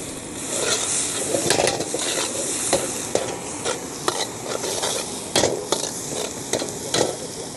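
Garlic, ginger and chili stir-frying with oyster sauce in a pan: a steady close sizzle and hiss of hot oil with repeated scrapes and clicks of the spatula stirring throughout, no talking.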